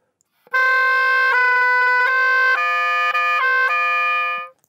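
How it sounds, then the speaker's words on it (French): An oboe plays multiphonics: sustained, buzzy chord-like tones that shift abruptly between several pitch clusters over about four seconds, loud and close, then stop. "On peut aussi faire des sons multiphoniques."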